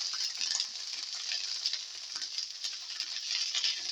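Okra pieces hiss and sizzle in hot oil in a pan for a coconut fenugreek pilaf, a bright steady frying crackle with small stirring scrapes, close and continuous without talk.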